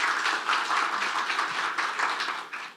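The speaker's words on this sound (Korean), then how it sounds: "여러분 한 번 더 큰 박수 부탁드리겠습니다" Audience applause at a startup review seminar, a full crowd clapping briskly and steadily before tapering slightly at the close.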